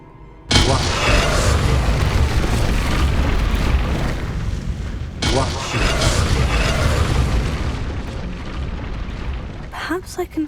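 Confringo, the fiery blast spell in the video game Hogwarts Legacy, goes off twice as loud booming explosions, each with a long roaring, crackling tail. Sharp sputtering pops follow at the end.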